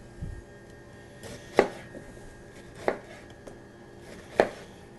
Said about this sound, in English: we're just going to slice nice rings out of them